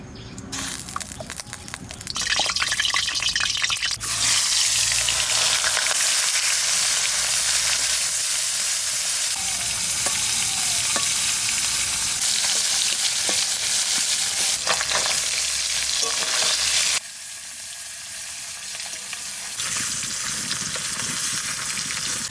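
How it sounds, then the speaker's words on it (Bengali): Fresh koi fish, salted and coated with turmeric, fries in oil in a hot wok, giving a loud, steady sizzle that runs almost without pause, briefly dropping and then returning near the end. "কড়াই গরম হয়ে গেছে তেল দিয়ে দেবো"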